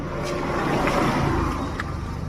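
A Bajaj auto rickshaw engine revs near the listener, a loud continuous motor roar that swells a little in the middle, with no speech.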